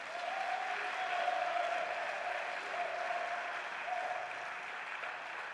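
Congregation applauding Jesus during a church worship service, sustained even clapping from a large crowd at moderate distance, with a voice faintly audible underneath.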